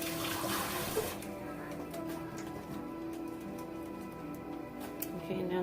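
Tap water runs steadily over scallions at a kitchen sink, a soft continuous hiss with a few faint ticks and clicks over it.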